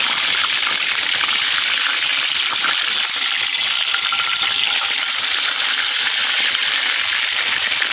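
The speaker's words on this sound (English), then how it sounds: "Right now we're just getting a good sear on the bottom." Steak searing in hot oil in a pan for Southern-style cooking, a loud, steady, dense sizzle and crackle that runs unbroken throughout with no voices.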